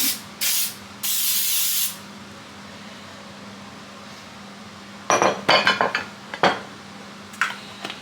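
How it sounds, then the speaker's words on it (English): Three short hisses of an aerosol cooking spray onto an 8x8 square baking pan, then a series of light metallic clinks and taps as the pan is handled nearby. "we're going to use an 8x8 square pan and just lightly spray it with pan."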